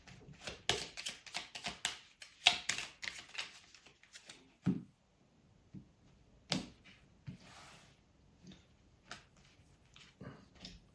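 Tarot cards shuffled for a reading, close and quiet: rapid riffling and flapping of cards in bursts, then scattered taps and slaps as cards are set down, no speech.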